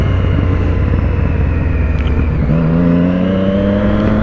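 Motorcycles pull away together on a street ride, a loud continuous engine roar with a rising rev as one bike accelerates, close and steady with no talk.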